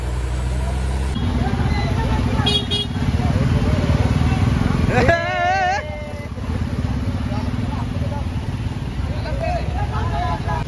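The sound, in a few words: ride inside a bus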